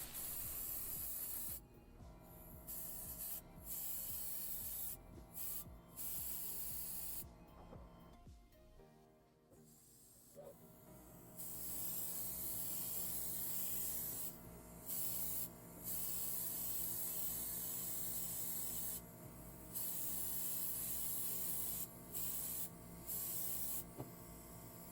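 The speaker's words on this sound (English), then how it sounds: "We're going to spray a couple light coats and then follow it up with a couple more heavier coats." An airbrush sprays light and heavier coats of Createx copper gold base paint onto a Datsun Bluebird 510 diecast car, a close, hissing spray in repeated bursts of a second or several seconds with short gaps between them.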